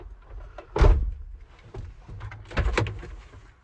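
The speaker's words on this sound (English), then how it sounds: "Now, close this door, open the other." Two solid thuds of a car door shutting, the first heavier, the second a moment later, with faint rustling in between.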